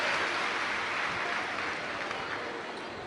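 A crowd at a Shiv Mahapuran religious gathering claps in a broad, steady wash of applause that holds for several seconds and fades slightly toward the end.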